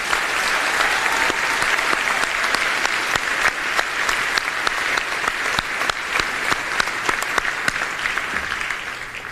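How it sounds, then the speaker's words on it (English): An audience at a high school graduation ceremony applauds in a long, sustained round of clapping with crisp individual claps standing out. It holds steady for about nine seconds before easing slightly. "Can we have a round of applause for our PTSA?"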